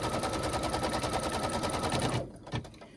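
A sewing machine, likely an embroidery machine, stitches batting down on a gnome design with a loud, fast, close rattling run that stops abruptly, followed by a single brief clunk.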